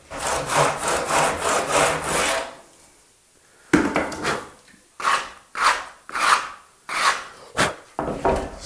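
A hand saw cuts coving in a mitre box. Rapid rasping back-and-forth strokes, then a short pause, then slower separate strokes, all close and loud with no talk.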